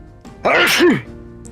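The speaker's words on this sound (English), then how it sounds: "I'm gonna sneeze again in a minute" A single loud, close sneeze bursts out after a brief sharp inhale, then fades quickly.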